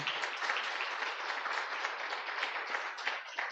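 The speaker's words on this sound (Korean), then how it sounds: "여러분들 축하 박수 한번 해야지요" A church congregation claps in congratulation for two people standing during a Sunday worship service. The applause is even and continuous, soft and slightly distant, with no voices over it.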